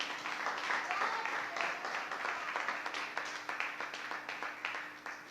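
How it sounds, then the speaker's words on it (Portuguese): Church congregation claps in praise, a fairly faint but steady patter of many hands with a soft rhythmic pulse, heard from some distance. "as palmas louvam o nome do Senhor"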